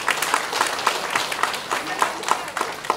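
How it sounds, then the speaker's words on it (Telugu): An audience at a women's entrepreneurship meeting claps loudly in a steady applause, with a few sharper rhythmic claps standing out at regular intervals and a voice talking faintly underneath. "అంటే మన శబ్దం రావాలంటే చప్పట్లు కొట్టండి వస్తారు అందరు"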